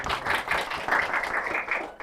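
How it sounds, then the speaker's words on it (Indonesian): A studio audience claps and applauds for a guest who is an amputee football player representing Indonesia on a talk show. The clapping is steady, dense and fairly close, lasting about two seconds with no voices over it. "Tepuk tangan dulu buat Kak Agung."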